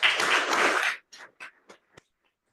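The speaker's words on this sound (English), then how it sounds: "let's just give another applause to our speaker" An audience at an astronomy conference session applauds a speaker: about a second of dense clapping that stops abruptly, then three or four scattered late claps in a quiet room.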